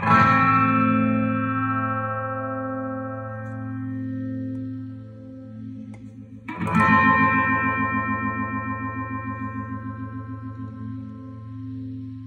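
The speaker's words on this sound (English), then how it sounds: "I don't have the 8-stage or 12-stage phaser, but you can still hear the phase set to this speed" An electric guitar chord rings out through a slow, subtle phaser pedal sweep, fading before a second strum restarts the swirling, pulsing tone.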